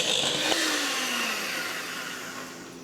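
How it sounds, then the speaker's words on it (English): An electric hand mixer beats egg yolks, giving a steady, loud motor whine with a high buzzing tone that holds throughout, close to the mic and with no talking. "we just use the same mixer to do the egg yolks"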